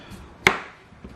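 A kitchen knife makes a single crisp chop through a potato on a cutting board, one sharp close thud with nothing else around it.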